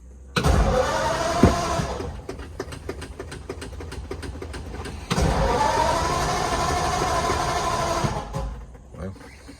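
A 1946 Ford Super Deluxe convertible in neutral is started by push button: a loud, rapid starter crank churns for a few seconds, then the engine catches and settles into a steady, close idle.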